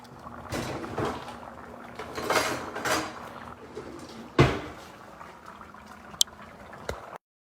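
Metal tongs turning corn cobs in a pot of hot liquid in a home kitchen, heard as scattered clinks and sloshing with a sharp knock midway and a faint metallic ping near the end, no talking.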